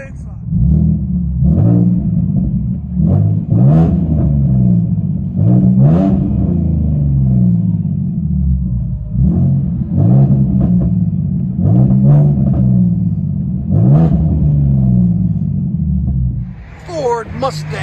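Interior view of a 2016 Ford Mustang 3.7L V6 with true dual straight-pipe exhaust: a loud, deep, rough burbling drone with repeated rising revs and pulsing bursts, continuous throughout, ending with a brief quieter moment.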